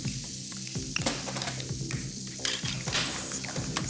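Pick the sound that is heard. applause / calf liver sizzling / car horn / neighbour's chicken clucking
calf liver sizzling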